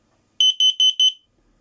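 Carbon monoxide detector alarm triggered by cigarette smoke, sounding four quick shrill electronic beeps in a rapid burst, loud and close, then silence.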